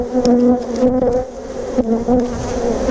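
Honeybees swarm around an open hive, making a loud, continuous droning buzz close by with shifting pitch, while a person talks over it.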